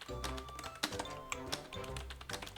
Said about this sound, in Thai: เสียงกดเหมือนคีย์บอร์ดเลยเนาะ